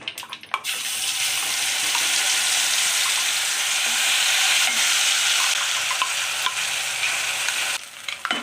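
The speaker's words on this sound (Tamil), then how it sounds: "கடுகு பொரிஞ்சிச்சு தீயை குறைச்சிட்டு நம்ம இதை எடுத்து ஊற்றலாம்" Steady frying sizzle of mustard seeds popping in hot oil for a pepper curry fills the clip, loud and continuous, with a brief splash of liquid being poured near the start and faint clatter near the end.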